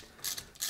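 Ratchet clicking in two short bursts while undoing M8 main case bolts on a two-valve Ducati Hypermotard engine during a bottom-end strip; quick close pawl ticks, no talk.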